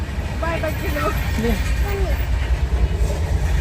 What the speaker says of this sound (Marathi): बघा ट्रेन चालली आता